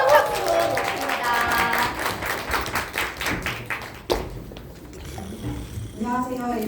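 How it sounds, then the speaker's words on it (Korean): An indoor audience claps steadily for a speaker being welcomed at a Bundang business meeting, the dense applause lasting about four seconds before tapering off as a voice begins talking. "손성혜 리더님을 큰 박수로 모십니다."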